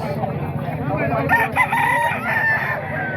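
Roosters belonging to a poultry seller crow at a busy market, several overlapping calls rising over a dense backdrop of clucking fowl and crowd chatter.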